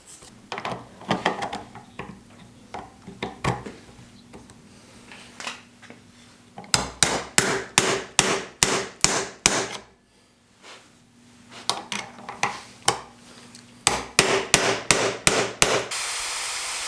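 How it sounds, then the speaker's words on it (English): A hammer peens metal on a WWII knife handle under restoration, with rapid runs of sharp, ringing metallic taps close by, grouped in bursts separated by brief pauses. "We've got to peen this out and down. That's the peening process."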